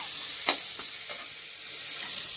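Onion going into a hot pan with ginger, garlic and green chilies, giving a steady bright hiss of frying with a few soft stirring knocks, close and continuous.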